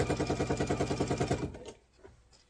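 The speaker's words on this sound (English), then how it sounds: "Sew all the way until you get to that next corner where that next 7-inch mark is." A sewing machine stitches fabric for an apron, a fast rhythmic mechanical chatter close by that stops abruptly after about a second and a half, leaving faint handling sounds.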